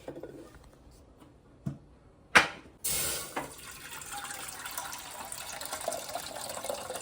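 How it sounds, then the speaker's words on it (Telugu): Water poured into a pan on a lit stove arrives as a sudden splashing gush after a few light clicks, then settles into a steady, softer trickle with no talking. "స్టవ్ వెలిగించుకుని ఇందులో నీళ్ళు పోసుకుందాం"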